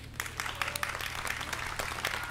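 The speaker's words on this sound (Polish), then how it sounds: "wtedy może teraz usłyszę oklaski" Audience applause at an outdoor sung-poetry concert, Wolodia pod Szczelińcem 2018: a steady, dense patter of many hands clapping together, moderately loud and sustained for the whole moment with no voices over it.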